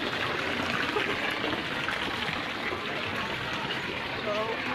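Water runs without stopping, a steady broadband rush that stays constant throughout and has no clear voices over it.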